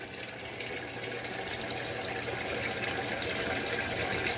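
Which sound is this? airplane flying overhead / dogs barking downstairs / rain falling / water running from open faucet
water running from open faucet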